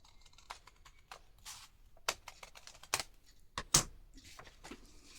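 Scissors cutting through a paper bag make sharp, close snips and crisp paper rustles in an irregular sequence, alone and fairly quiet.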